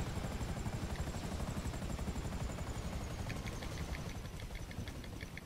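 Steady, loud helicopter rotor chop throbbing continuously, with a rhythmic thumping pulse and engine whine, no voices, in the video game GTA 5 Online.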